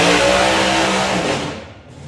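Loud, close drag racing car engine revving hard at Dragstalgia, a roaring throttle blast that holds steady and then trails off toward the end.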